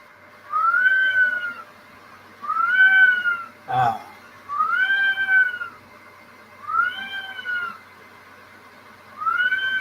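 A pet cat meows repeatedly indoors, five drawn-out, rising-falling calls spaced about two seconds apart, loud and close, with a brief thump between them.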